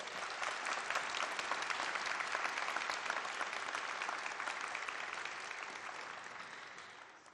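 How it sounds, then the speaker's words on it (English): A large audience at a university convocation in Thunder Bay applauds the drummers, producing a long, dense wash of clapping that holds steady and then slowly tapers off. "Miigwech to these fabulous drummers. Let's give them a round of applause."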